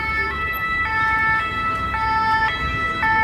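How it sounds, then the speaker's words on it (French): An ambulance siren wails in a Paris street, its two-tone pattern repeating steadily and loud over a background of traffic rumble. "Le bruit des ambulances."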